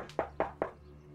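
Three firm, evenly spaced knocks land on a door in quick succession, close and distinct, in an otherwise quiet indoor setting.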